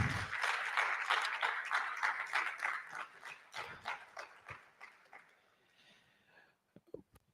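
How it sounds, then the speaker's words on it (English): Audience applause for a lecturer at a college public lecture, dense clapping that thins and fades over several seconds, ending in a few scattered claps. "Please, let's give him a round of applause."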